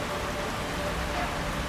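Steady rain falls at night in the video game Hitman, a dense, even hiss of drops on surfaces with no breaks, fairly quiet and continuous throughout.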